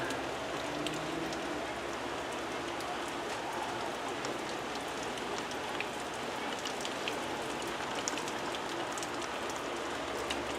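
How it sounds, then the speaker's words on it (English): Steady rain pelts windows and outdoor surfaces in a dense, continuous patter with scattered sharper drops, fairly close and even throughout, with no voices. "Camera doesn't want to focus too well with all the rain on the windows"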